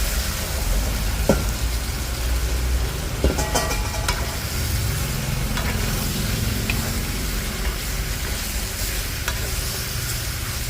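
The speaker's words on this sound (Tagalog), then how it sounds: "Lagyan na natin lechon." Filipino sinigang simmers in a pot as pieces of roast pork lechon, Cebu style with bones, are stirred in, giving a steady bubbling hiss with soft clinks and stirring scrapes and no talk.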